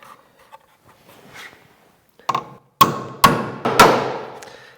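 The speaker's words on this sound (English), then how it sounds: "They do not like nailing into that yellow pine, that's for sure." Nails driven into yellow pine boards while building an off-grid workshop, with several loud, sharp hammer blows close by in the second half, after a few faint taps and rustles.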